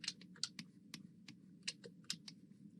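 Computer keyboard keys pressed, including the shift key, in a quick irregular string of crisp, quiet clicks over a low steady hum.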